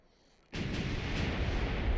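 Cannon fire from a coastal fort in the Sea Dogs naval game, one loud booming blast that starts suddenly and rolls into a sustained rumbling roar, with fainter repeated thuds inside it.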